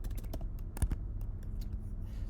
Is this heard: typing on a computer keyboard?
yes